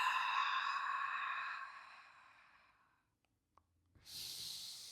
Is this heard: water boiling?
no